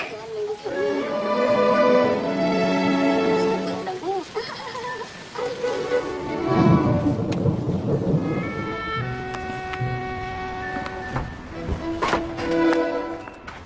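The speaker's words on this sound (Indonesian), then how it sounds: "karena di luar sedang turun hujan" Rain falling outside during a film scene, a steady wash of rainfall with a low rumble, heard beneath voices and other scene sounds that come and go.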